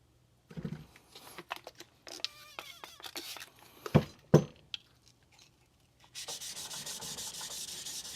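Harsh, gritty rubbing strokes of a knife blade drawn across a vitrified diamond whetstone, several short passes close by, ending in a steady rasping stretch.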